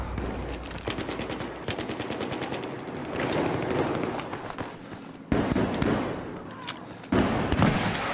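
Automatic gunfire in a Battlefield 3 multiplayer deathmatch on the Metro map comes in rapid bursts and single shots over a busy battle din. It breaks off abruptly at moments and resumes loud and close.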